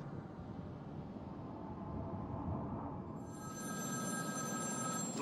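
A telephone rings in the Batman: Arkham City video game, a faint electronic bell ringing over a dull, rumbling ambient background that grows slightly louder toward the end.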